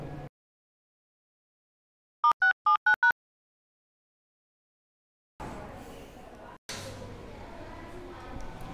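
A phone call being placed: a short run of five quick electronic dialing beeps in near silence, followed by hissy line noise and a steady tone, with a voice heard briefly at the start.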